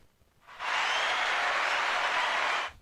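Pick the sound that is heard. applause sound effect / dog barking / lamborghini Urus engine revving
applause sound effect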